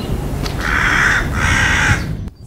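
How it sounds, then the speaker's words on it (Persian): Crows caw on an outdoor film location: two loud, close, harsh caws in quick succession over a low background rumble, then quiet. "از دوستان خواهش کردیم که با تیر کمون بزنن کلاغا یه ذره دور شن از ما"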